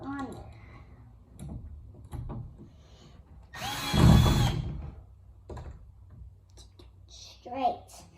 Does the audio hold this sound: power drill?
yes